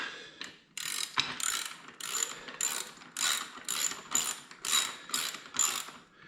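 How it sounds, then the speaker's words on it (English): An Allen key tightening the mounting bolts of a Givi motorcycle top box, heard as a close run of rapid ratcheting clicks in about eight short bursts with brief pauses between them, and no voices. "And now we tighten them with the Allen key."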